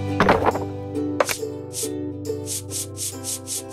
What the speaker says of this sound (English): You can use the sponge to remove the paint.